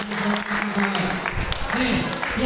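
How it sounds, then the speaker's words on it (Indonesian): A group of students at a Ramadan religious study session claps together, a dense, steady patter of applause filling the room for a few seconds with talk mixed in beneath it. "Oke, tepuk tangan semuanya."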